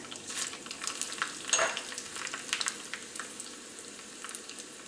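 Dried red chillies crackling in hot coconut oil during a tempering, with close, uneven sizzling and scattered sharp pops as the spoon stirs.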